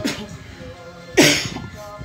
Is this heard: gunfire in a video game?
no